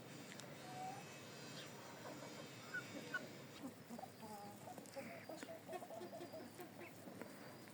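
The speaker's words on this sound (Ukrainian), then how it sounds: "Ось яка курочка." Young Orpington and Brahma hens clucking softly in a yard, scattered quiet clucks and low calls at a distance over faint background noise.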